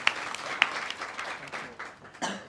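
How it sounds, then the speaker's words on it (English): A small audience gives brief, scattered applause at a diplomatic visit, light and fairly quiet, with a few sharper claps standing out. "Guys, it needs a round of applause."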